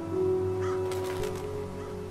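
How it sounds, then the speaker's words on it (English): Crows caw in the post-apocalyptic world of Fallout 4, a few harsh, loud calls close by over a steady low game hum, with no talking. "Some institute birds right there."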